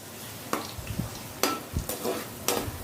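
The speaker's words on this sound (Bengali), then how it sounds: "গ্যাসটা লো করে দিয়ে এবার এই বন্দিগুলো ভেজে নিতে হবে" A soft, steady sizzle of boondi drops for motichur laddu frying in hot oil over low heat, with a few sharp clicks of a utensil tapping the pan.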